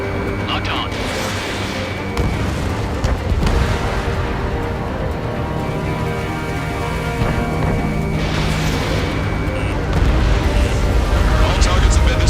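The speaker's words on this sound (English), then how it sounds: "Fox 2. Missile hit." In a flight combat video game, a missile strikes its target with a loud booming explosion, followed by rumbling blasts and continuous roar of battle, while voices speak over it.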